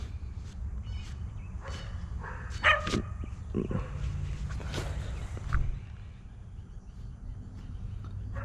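A dog barks in a fenced yard at a property being inspected, several scattered barks at moderate distance over steady outdoor background noise.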